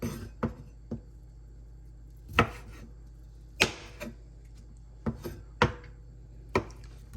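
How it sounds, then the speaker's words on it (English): A knife chops vegetables into rings on a cutting board in irregular, sharp knocks, several spaced strokes against a quiet background. "Chop them like that into rings."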